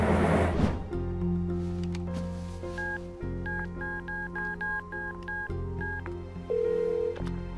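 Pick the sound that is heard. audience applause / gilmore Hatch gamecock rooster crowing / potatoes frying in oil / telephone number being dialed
telephone number being dialed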